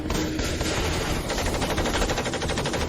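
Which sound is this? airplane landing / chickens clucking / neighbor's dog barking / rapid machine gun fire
rapid machine gun fire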